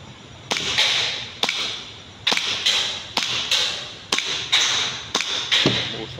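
Nine sharp pistol shots from an Army Armament R27 pistol ring out at an uneven pace, each a loud crack with a short decaying tail, fired outdoors on a range.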